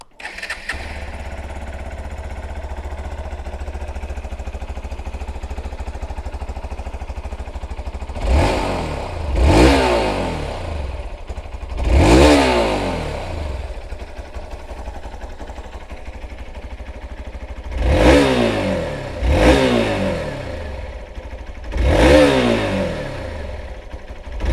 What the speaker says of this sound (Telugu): ఇప్పుడు ఒకసారి ఇంజన్ ఆన్ చేద్దాం